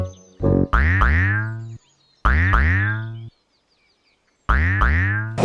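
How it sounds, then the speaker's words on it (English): A cartoon bouncing ball gives three loud, springy boings, each a quick pair of rising and falling wobbly tones, separated by short silences. "What a funny bouncy sound."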